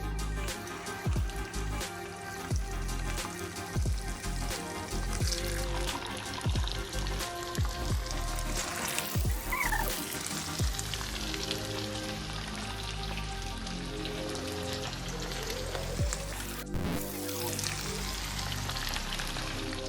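Chicken kebab pieces sizzle in hot oil in a pan, a dense, steady crackle and hiss like light rain that carries on quietly with no voices.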